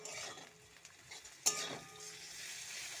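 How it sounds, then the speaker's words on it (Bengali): Ginger, garlic and cumin paste fries in a pan for a Bengali fish curry, with a low, steady sizzle and stirring and one sharp spatula scrape partway through, close and fairly quiet. "এবার এটা একটু ভালো করে কষাতে হবে।"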